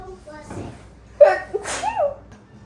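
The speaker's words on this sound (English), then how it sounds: "1 second, I'm gonna sneeze." One sharp, close sneeze with a quick intake of breath before it, followed by a brief voiced exhale.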